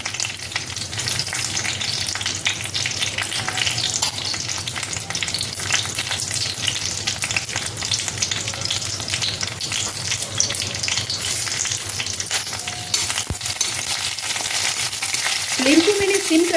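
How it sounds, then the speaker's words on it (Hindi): Green chilies and curry leaves fry in a pan for chutney on a low flame, giving a steady, dense sizzle and crackle that holds even throughout, close and fairly loud, with a few stirring scrapes near the end. "अभी ये अच्छे से भून गए हैं हरी मिर्च और करी पत्ता"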